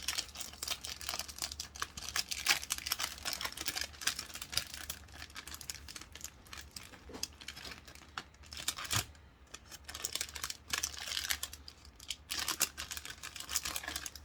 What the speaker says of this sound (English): And then we will open our envelope.